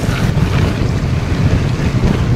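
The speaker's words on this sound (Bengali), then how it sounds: "এখন আবার ঠান্ডা হাওয়া।" Strong cold wind in a hilly area buffets the microphone in a steady, rumbling roar with rolling gusts, loud and close, and no voices.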